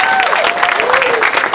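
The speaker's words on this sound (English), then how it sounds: "So we could collectively give them a round of applause." Audience clapping at an award ceremony and dinner, a brief burst of applause with a voice speaking over it throughout.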